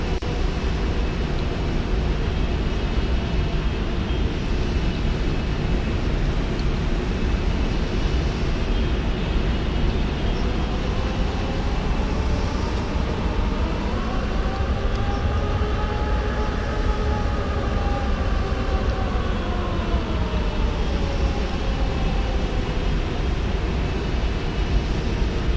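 Landing gear lowers on an airliner in Microsoft Flight Simulator 2020, flying from Louisville to Rome, with a loud steady engine roar and a rising then falling whine partway through.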